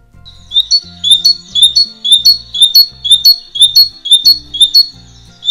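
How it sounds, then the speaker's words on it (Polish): A great tit repeats a bright, two-note chirping phrase over and over in a steady rhythm, loud and close, with faint low background tones beneath. "No, czyli sikorka bogatka."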